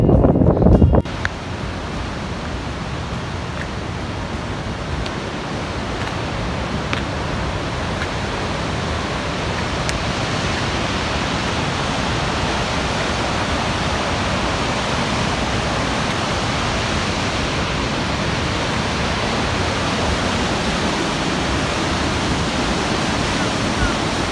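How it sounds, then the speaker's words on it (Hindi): Cold wind blows steadily across a trail in the Himachal mountains near Bharmour and Kugti in autumn, a loud, unbroken broadband rush that stays level throughout with no distinct gusts. "ठंडी हवा चल रही है, ठंडक है"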